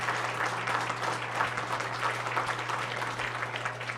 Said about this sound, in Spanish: Un a aplauso, ustedes. por favor.